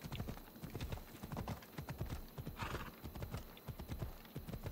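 Horse hooves clip-clop steadily in the video game Assassin's Creed Odyssey, a continuous rapid galloping rhythm of dull thuds, fairly faint, with a brief whinny midway.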